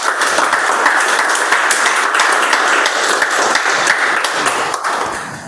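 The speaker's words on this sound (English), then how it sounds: "Then give a huge round of applause for yourselves." Meeting audience applauds in a sustained, dense burst of clapping that fills the room, loud and even throughout before tapering slightly at the end.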